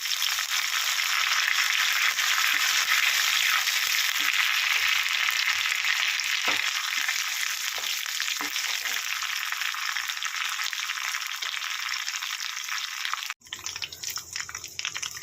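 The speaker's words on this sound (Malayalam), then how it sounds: "അതിലേക്ക് കുറച്ച് കറിവേപ്പില ഇട്ട് കൊടുക്കാം." Steady, loud sizzling of curry leaves and ginger frying in hot oil in a pan, a continuous crackling hiss that cuts off abruptly near the end.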